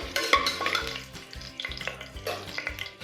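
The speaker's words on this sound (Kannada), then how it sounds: "ಹಾಕಿ ಚೆನ್ನಾಗಿ ಫ್ರೈ ಮಾಡ್ಕೊಳ್ಳಿ" Lima beans frying in a pan while being stirred with a utensil, close rhythmic scraping strokes against the pan over a soft sizzle, no voices.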